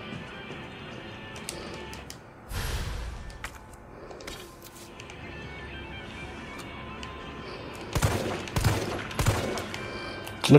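Gunfire in Resident Evil 3, with scattered shots over a steady game background: one heavy blast near 2.5 seconds, then a cluster of louder, sharper shots from about 8 seconds onward.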